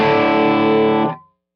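Electric guitar through a Klon-style overdrive on a Fractal FM9, one sustained, richly overdriven chord ringing loud and alone for about a second before quickly fading out.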